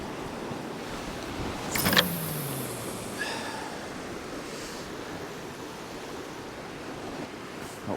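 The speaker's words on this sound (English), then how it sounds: "That wind's just starting to pick up and it's coming literally right off the sea" Wind blows in off the sea at the shore, a steady broad rush mixed with breaking surf, with a brief gusting swell partway through.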